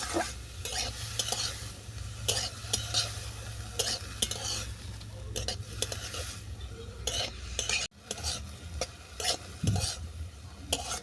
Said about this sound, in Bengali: রাঙালুটাও নেড়ে চেড়ে দু মিনিট ধরে ভেজে নেবো